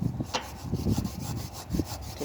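Gyprock saw cutting into material at an angle in an art studio, a close, fairly loud rough rasping scrape with uneven strokes and no talking.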